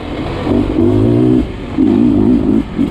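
A Beta 300 dirt bike engine revs hard on a trail, two sustained loud buzzing pulls of throttle separated by a brief dip, close to the rider and without talk.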